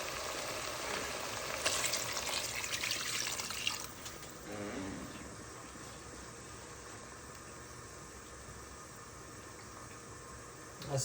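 Hot water pours into a soup pot with a steady rushing, splashing hiss that softens after a few seconds into a quieter continuous flow, close and without talking.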